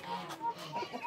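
A Brahma chicken clucking in a farm yard, a handful of quiet, short clucks at moderate distance over a low outdoor background.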